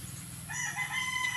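A rooster crows nearby, a drawn-out cry rising over a steady low background hum.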